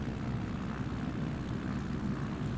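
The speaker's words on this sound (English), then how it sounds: "I hear jet noise!" Engine noise in Microsoft Flight Simulator near crossing runways at takeoff, a steady low droning rumble that holds evenly throughout with no voices.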